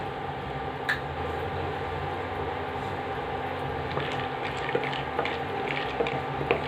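Peanuts fry in sesame oil as a steady, even sizzle and hiss with occasional small pops. It is close and continuous, with no speech.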